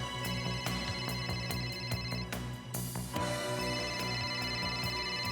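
A telephone rings with repeated electronic trills, fairly loud and close, with a brief shift in tone partway through; no one speaks.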